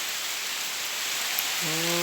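Rain falls steadily as a broad, even hiss throughout, with a brief low tonal hum rising near the end and no voices.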